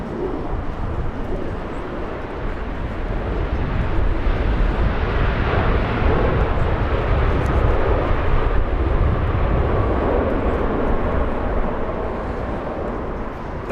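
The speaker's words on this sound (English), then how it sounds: "there goes the 777" A Boeing 777 departs Los Angeles International Airport with a broad, steady jet roar that swells and holds loud throughout, heard from a moderate distance with a faint bird call in the background.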